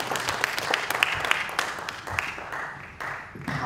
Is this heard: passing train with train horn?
no